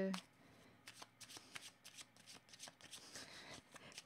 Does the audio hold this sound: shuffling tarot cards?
yes